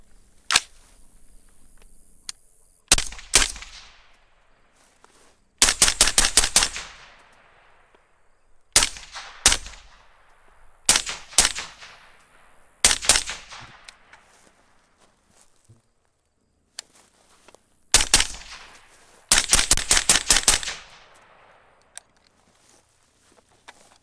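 AR-15 rifle fired outdoors at long range, sharp cracks coming singly and in quick rapid bursts with quiet gaps between, each shot ringing out with a decaying echo.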